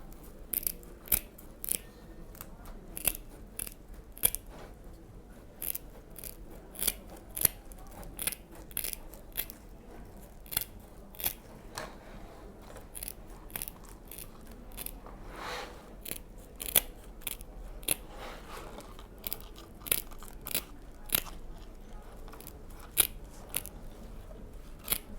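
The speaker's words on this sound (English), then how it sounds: "And then we're just going to cut off where I put my chalk line." Scissors snip through fabric along a chalked line while a spiral-strip hat is being made, giving sharp, close crisp cuts in an irregular rhythm of repeated single snips with quiet pauses between them.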